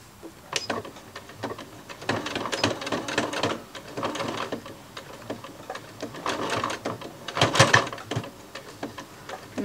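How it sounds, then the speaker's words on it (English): A sewing machine stitches Velcro onto a fabric rice heating pad, running in close, rapid bursts of mechanical clatter with short pauses between runs. "then I'll just continue sewing around the edge"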